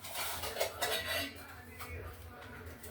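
Oil being added to a heated appe pan as metal utensils scrape and clink against the pan in irregular bursts, close and moderately loud, with no talking.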